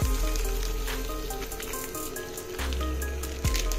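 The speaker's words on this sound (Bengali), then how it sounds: "একটু বাটার দিয়ে আর দিয়ে একটু কাশ্মীরি লঙ্কার গুঁড়ি দিয়ে ছুঁকে নিচ্ছি" Butter and Kashmiri chili powder sizzle in a pan while pav bhaji is cooked, giving a steady, close frying hiss for the whole stretch with a few louder spits and crackles.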